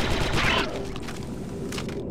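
Gunfire in a Star Wars video game: a dense burst of shots crackles loudly at the start, then dies down into a steady rumbling battle backdrop.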